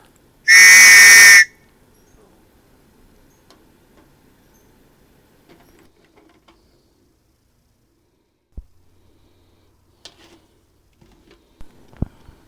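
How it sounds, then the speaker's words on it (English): A single loud, shrill blast from a three-tone whistle with several blended tones, lasting about a second, followed by near silence with a few faint clicks. "Kind of 3 whistles in one"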